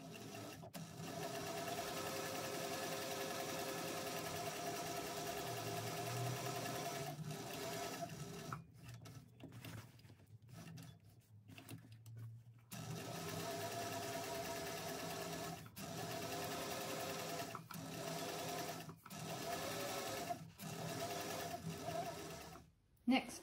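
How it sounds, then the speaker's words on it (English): A sewing machine runs steadily while top stitching both sides of a bag lining seam at an eighth-inch allowance, with brief pauses and restarts partway through; a voice talks over parts of it. "I'm going to top stitch each side of the seam with 1/8 of an inch seam allowance"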